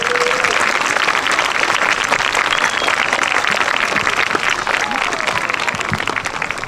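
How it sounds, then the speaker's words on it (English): Audience applause at a school district retirement tribute honoring a retiring staff member: steady, dense clapping fills the whole stretch at close range, with voices faintly mixed in beneath. "Let's give her a big round of applause, please."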